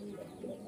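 Pigeons coo at a village pigeon loft, a steady low murmuring of overlapping coos that fills the short moment without pause.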